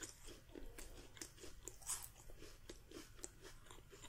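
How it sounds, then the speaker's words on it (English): Crisp baklava being bitten and chewed up close, a string of soft crunches and moist chewing sounds at an uneven pace, quiet and alone without talk. "Hear that crunch on there?"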